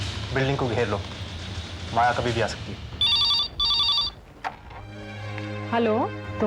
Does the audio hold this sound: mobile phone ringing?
yes